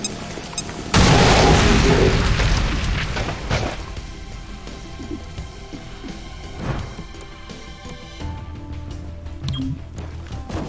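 A grenade explodes in XCOM: Chimera Squad as a sudden loud blast with a heavy boom that rumbles and fades over several seconds, followed by quieter game sounds.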